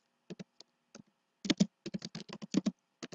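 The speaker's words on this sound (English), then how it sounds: "Type in your name," Keys tapped on a computer keyboard while a name is typed, a short irregular run of crisp clicks, a few isolated strokes then a quicker cluster, close and quiet with no talking.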